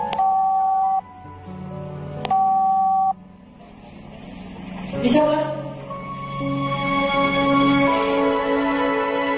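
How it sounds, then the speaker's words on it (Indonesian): A mobile phone is dialed, giving two sustained, loud keypad tones separated by a short gap, followed by softer, mixed background sounds with a louder burst in the middle. "Sini mana handphonenya, biar mama telepon."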